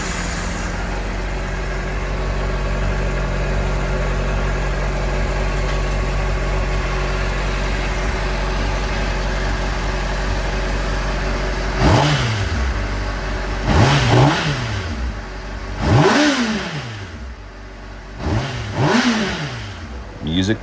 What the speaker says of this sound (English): now the bike is also running